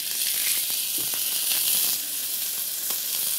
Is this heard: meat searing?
yes